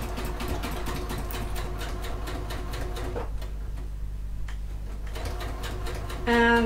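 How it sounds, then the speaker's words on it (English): A sewing machine runs steadily as it stitches clutch fabric toward the first corner, a fast even mechanical ticking that drops out briefly midway, then resumes; close and continuous. "I'm just sewing down to the first corner, making sure I'm 3/8 of an inch away"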